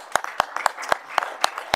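A small group at a council meeting claps, producing about eight sharp, distinct claps in a quick, fairly even rhythm, close and clear against a quiet room.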